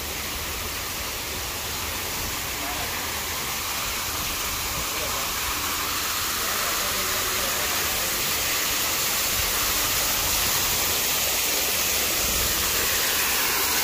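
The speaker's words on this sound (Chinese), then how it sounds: "瀑布" Waterfall at Guguan, a steady broadband roar of falling water filling the whole clip, loud and constant without pause.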